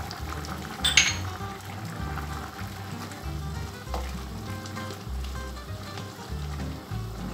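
Picante de carne simmering in a pot while peas are added, with a steady low bubbling sizzle under light clinks of utensils against the pot; no one speaks.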